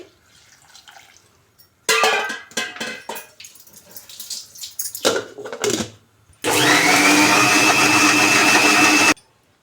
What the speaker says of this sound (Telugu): ఇప్పుడు వాటర్ వేసుకొని మిక్సీ పట్టుకోవాలి